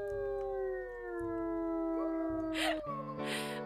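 Wolves in the video game WolfQuest howl together, several long overlapping sliding tones rising and falling over a low rumbling game backdrop, fairly loud and without speech.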